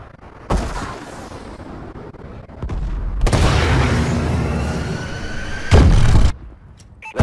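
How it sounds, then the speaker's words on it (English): Missile strike explosions from the multiplayer mode of the video game Call of Duty Advanced Warfare, heard as a sharp boom, a long, heavy rumbling blast and a final loud burst, all fairly close and loud. "Missile strike ready for launch. Friendly missile strikes incoming."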